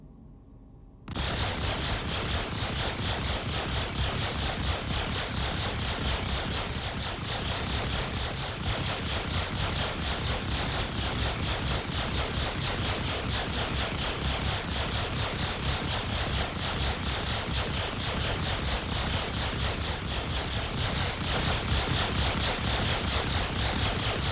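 Distortion guns in a space-combat game fire at a Pisces ship in a dense, continuous rapid stream of buzzing shots, steady and loud for the whole stretch after a brief quiet start.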